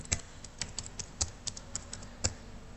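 A computer keyboard being typed on while entering a component name in simulation software, a quick run of light, close key clicks in an uneven rhythm, about a dozen strokes, with no talk.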